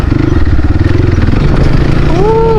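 A Crossfire RM 250 motorcycle engine runs loud and close with a steady low throb, and a rising tonal whine comes in near the end.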